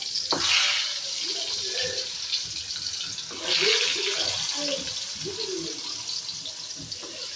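Pumpkin slices being fried in hot oil, a continuous hissing sizzle that swells as pieces go in, with faint clinks of a utensil.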